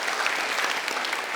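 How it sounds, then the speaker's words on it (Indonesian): An audience bursts into steady, dense applause at a live talk show, clapping filling the whole short moment without a break. "Kita berikan tepuk tangan dulu."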